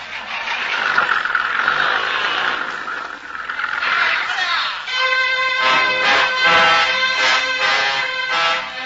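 A truck engine in a radio drama cranks and catches, then runs with a loud, uneven mid-pitched rumble that surges and settles over several seconds, with voices mixed in.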